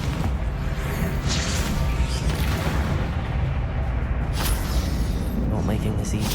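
Confringo spell blasts fired in Hogwarts Legacy combat form a dense, continuous roar of booming, crashing explosions that holds loud and steady throughout.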